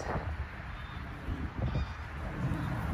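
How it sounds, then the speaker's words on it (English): Honking bird calls, like geese, sound from a moderate distance in the Netherlands over steady outdoor background noise, with a few louder bursts. "look at all those birds."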